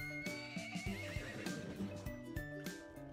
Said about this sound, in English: We got another horse.